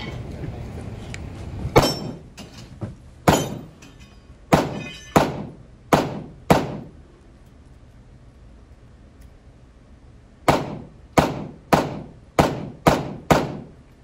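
Small pistol shots at an IDPA match, sharp cracks in two quick strings with pauses between, some shots followed by faint metallic clinks of small steel targets being knocked down, loud and near.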